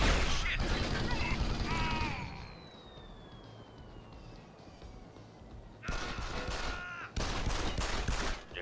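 Gunfire in Deus Ex: Human Revolution, loud rapid bursts of shots at the start and again near the end, with a quieter stretch between them.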